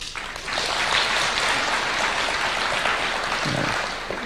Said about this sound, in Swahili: Naona Vice Chancellor ndiye anapiga makofi zaidi.